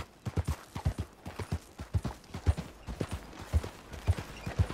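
Horse hooves clip-clop at a steady walking rhythm in the video game Red Dead Redemption 2, each fall distinct and fairly close, repeating evenly through the whole stretch with no talk.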